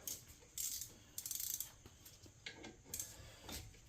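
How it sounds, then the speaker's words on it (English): Ratchet loosening 14 mm brake caliper bolts on a 2017 Kia Sportage front brake, heard as several short bursts of metallic clicking separated by pauses, fairly close and moderately loud. "You're going to remove your caliper bolts here."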